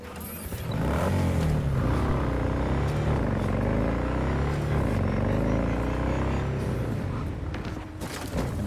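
Motorbike engine in the Cyberpunk 2077 video game, revving and rumbling loud and close for several seconds with shifting pitch as it accelerates, mixed with game music and mechanical clatter.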